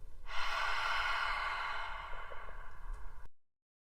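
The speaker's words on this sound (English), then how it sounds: "Exhale through the mouth." A single long exhale through the mouth during a guided breathing exercise, a soft airy breath that starts abruptly, holds for about three seconds, then trails off and stops, close and alone.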